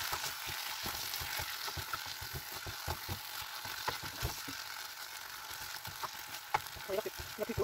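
Tuna and peppers sizzle in a pan, a steady close frying hiss broken by frequent scraping knocks from stirring, with a low hum underneath.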